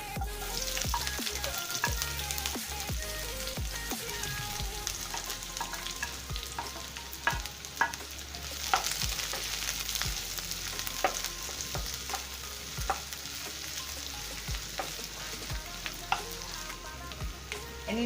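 Sliced onions fry in hot oil for a Kerala-style bitter gourd stir fry, a steady close sizzle with scattered crackles and occasional spatula scrapes against the pan, running continuously with no talking.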